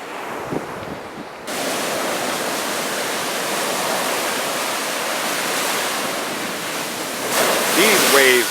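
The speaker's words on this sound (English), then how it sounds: "These waves are real." Ocean waves break on a quiet beach in Turks and Caicos, a loud, continuous roar of surf with heavy wind buffeting the microphone, swelling louder toward the end where a voice briefly sounds.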